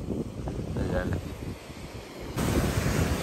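Surf washing onto a black volcanic sand beach in Hawaii, a steady broadband roar that swells louder near the end as a wave breaks close by, with wind buffeting the microphone and a voice talking over it.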